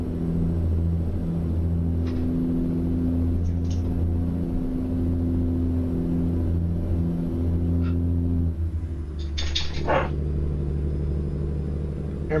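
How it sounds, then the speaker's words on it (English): Freightliner FLD truck with the Zmod engine sound pack in American Truck Simulator, hauling a dry bulk tanker: a steady low diesel drone idles and rumbles throughout, with a shift in pitch near the end and brief faint clicks. "this might be the third Zmod's engine sound pack that I've used in a video, and like I just can't tell where the looping is"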